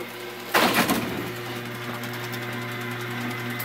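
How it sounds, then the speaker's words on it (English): A half-scale bowling pinsetter starts a cycle with a sudden mechanical clatter, then settles into a steady humming, whirring drive with faint rattling parts, close by. "I'm going to start a cycle. It's going to be a number two cycle, so we get pins into the pit."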